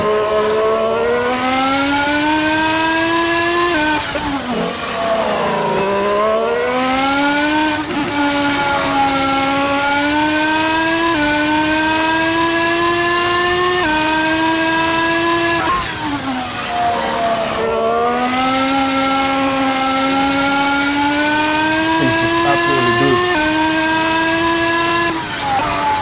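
A Formula 1 race car from about a decade earlier screams at high revs for a sustained stretch, its engine pitch dipping sharply on downshifts twice before climbing again. It stays loud and close throughout, with no voices.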